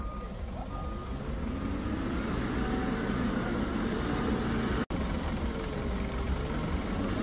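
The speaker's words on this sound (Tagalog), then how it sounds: "So hirap na hirap pong makaahon yung truck." A heavy truck strains to climb a steep uphill road, its engine a loud, steady rumble with a high whining tone over it, continuous and close throughout.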